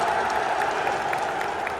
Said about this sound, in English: City fans are clapping Edin Dzeko, the Inter player, getting subbed on.